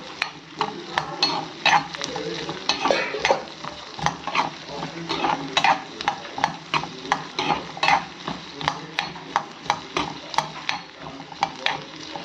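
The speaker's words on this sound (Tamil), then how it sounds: "இன்னும் கொஞ்சம் எண்ணெய் ஊற்றி நல்லா வதக்கிக்கலாம்." Garlic and mutton sautéing in oil for pepper nalli curry, a close, busy sizzle broken by rapid rhythmic scrapes and clinks of a spoon against the pan throughout, with faint voices now and then.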